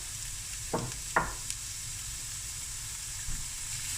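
Finely chopped onion sizzles softly in olive oil in a pot, a faint steady hiss broken by a few brief scraping stirs.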